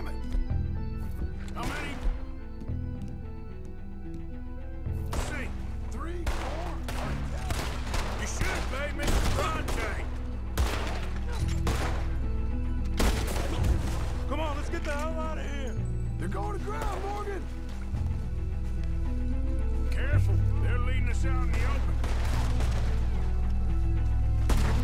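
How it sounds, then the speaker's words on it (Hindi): Gunfire in Red Dead Redemption 2 on the streets of Saint Denis: repeated sharp shots and bursts cracking out in irregular clusters, some near and loud, with a voice heard among the shooting. "ओ भाई साहब, हमारे ऊपर गोलियां चल रहा है।"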